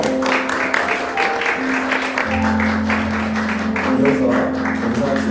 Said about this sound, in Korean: 자리로 돌아가실 때 한 번 더 박수 부탁드립니다.